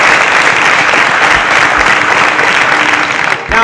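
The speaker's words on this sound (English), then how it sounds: "A round of applause for them as they exit the stage." Studio audience on a televised contest show applauding as contestants leave the stage, a loud, even burst of many hands clapping for over three seconds before cutting off abruptly.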